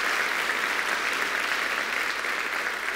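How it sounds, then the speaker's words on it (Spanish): Steady, dense applause from a church congregation during a sermon, loud and continuous without a break, with no talking over it. "Dale un aplauso al Señor"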